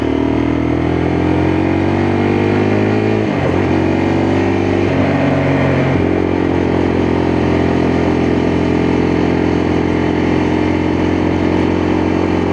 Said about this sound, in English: But I love that engine tone.